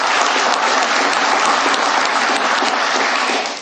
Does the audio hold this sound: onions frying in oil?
no